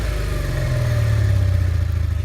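A W800 motorcycle exhaust runs at a steady, deep idle-like rumble with a slight rise in revs, close and continuous throughout, with no talking.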